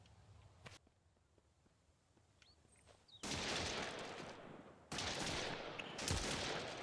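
Bandits shooting guns in the survival video game Mist Survival: quieter scattered shots at first, then two long, loud bursts of rapid gunfire close by.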